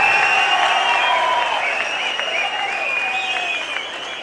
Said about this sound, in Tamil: உங்கள் கரகோஷத்தோடு மேடைக்கு அழைக்கிறோம்